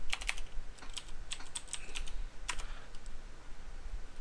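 Keys clatter on a computer keyboard as commands are typed while configuring a Cisco switch, a quick irregular run of close, crisp taps over faint room hiss, with no voices.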